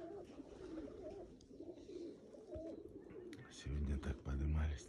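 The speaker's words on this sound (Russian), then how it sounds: "Эти голуби." Indian and Pakistani pigeons cooing outdoors, low soft repeated coos that grow louder toward the end over steady background noise.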